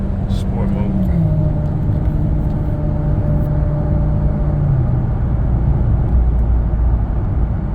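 A 2011 Chevy Caprice PPV engine, fitted with an underdrive harmonic balancer, roars loudly and close by in sport mode, a steady heavy drone with shifting pitch as it pulls hard under power.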